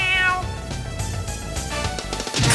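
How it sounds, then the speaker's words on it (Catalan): A cat meows loudly and close by in an animated cartoon, a drawn-out, wavering cry over a dense background. "El gat se't menjarà!"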